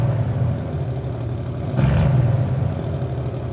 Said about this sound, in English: if you want to wake it up, you can just whack it into sports mode and hear the exhaust